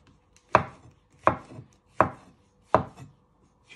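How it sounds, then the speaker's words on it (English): Knife slicing mushrooms on a cutting board, four crisp evenly spaced cuts with short chopping thuds, close and clear with no talking. "So you chop it in half. And then you just finely slice them."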